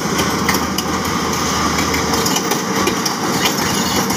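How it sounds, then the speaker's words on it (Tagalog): A Komatsu bulldozer engine runs steadily at a low, unstrained idle, a continuous mechanical drone with rattly clatter and no voices. "Hindi man lang pinagalit yung makina."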